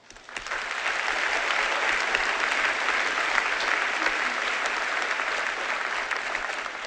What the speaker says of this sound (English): I would also like to give a huge round of applause to Ms. Sullivan